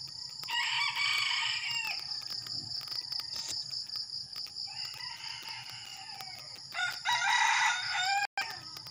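A backyard rooster crows repeatedly before dawn, three long loud calls spaced a few seconds apart, set against a constant dense chorus of insects and crickets.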